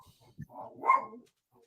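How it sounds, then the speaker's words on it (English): A dog indoors at home gives one short, fairly quiet bark, preceded by a faint soft sound, then silence. "Now you got my dogs riled up."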